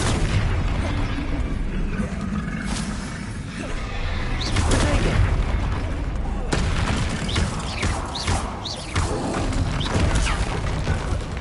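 Confringo blasts in Hogwarts Legacy, with loud fiery booms and crackling impacts over dense, continuous battle noise, and a voice speaking over the din.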